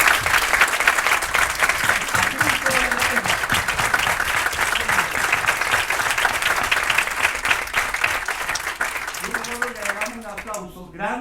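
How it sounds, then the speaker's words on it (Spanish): A church forum crowd gives warm, sustained applause for Father Morales, loud dense clapping running throughout and thinning near the end as voices begin to rise over it. "Le da una calurosa aplauso al padre Morales, a la persona de Dios."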